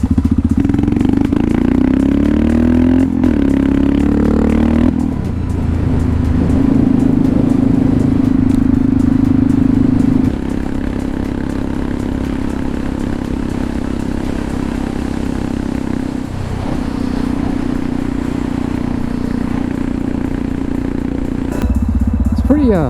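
A Yamaha VMAX motorcycle with a sidecar cruising on the highway, its engine droning steadily and loudly with heavy vibration, rising and falling slightly as the rider shifts.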